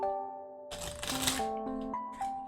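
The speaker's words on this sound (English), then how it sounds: "we're gonna double extra shuffle." A deck of cards shuffled at a tabletop solo role-playing game, one quick riffle burst lasting about a second under a steady tonal background hum, no voices.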